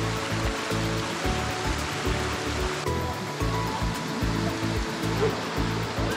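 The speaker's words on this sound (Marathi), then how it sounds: "थोड्याच वेळात एक छोटासा ओढा लागला। पावसामुळे त्याला पाणी आलं होतं।" A small forest stream, swollen by rain, rushes along a trek from Lonavala to Bhimashankar, its steady close flow of water babbling continuously and fairly loudly with no voices over it.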